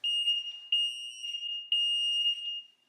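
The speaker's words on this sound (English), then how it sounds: "They are testing the fire alarms in my building." A fire alarm under test in an apartment building sounds as a loud, steady electronic beep in long sustained tones with brief breaks, heard alone without voices.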